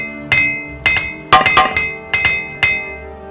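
An armorer's hammer strikes metal gear during repairs in the game Morrowind, six sharp ringing clangs in an uneven rhythm, each with a short metallic decay, loud and alone.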